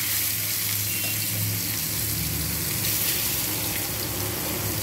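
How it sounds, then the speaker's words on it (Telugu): Fish pieces fry in hot turmeric oil in a pan, producing a dense, steady, close sizzle and crackle that fills the whole stretch without letup and without talk. "ఈ లోపల ఆ పసుపు వేడయ్యే లోపల చేప ముక్కలు ఇలా పెట్టేసుకుందాం. ఇవి కూడా మనకు ఫ్రై అయిపోతాయి అన్నమాట."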